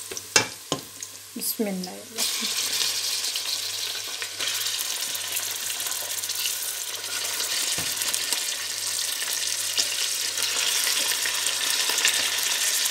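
Boneless chicken for biryani hits a hot pan with a loud, steady sizzle of frying, stirred with scraping now and then, close up. A brief voice comes before it.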